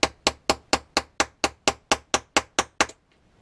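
Small watch hammer with one plastic end tapping a bearing into an RC car axle, eleven sharp, evenly spaced taps in a steady rhythm, close and loud, then silence.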